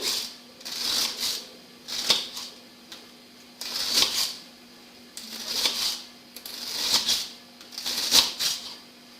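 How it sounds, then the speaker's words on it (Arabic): A knife chops parsley into small pieces on a board, producing quick bursts of crisp tapping strokes that repeat at a steady rhythm, with short pauses between the bursts. "انا غادي نستمر بهذا الشكل حتى كنقطع الكميه اللي عندي كامله ديال المعدنوس"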